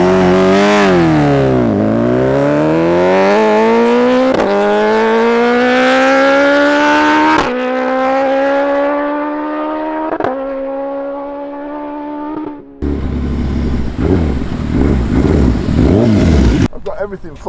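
A modified, turbocharged Suzuki Hayabusa launches hard in a wet drag run. The engine screams up through rising revs, with sharp gear-change breaks and a loud, close roar that drops off before a final burst.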